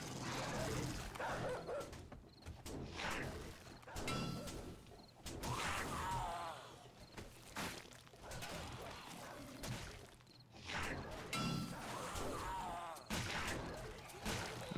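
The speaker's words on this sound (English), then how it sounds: "Don't want to get nicked by that dog that I hear." A dog barks repeatedly in the video game 7 Days to Die, recurring bursts of yips mixed with game noise and mechanisms, set behind someone talking steadily.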